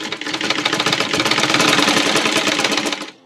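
An electric sewing machine stitches a small Laddu Gopal dress in one fast, steady, rattling run lasting about three seconds, close up, then stops abruptly.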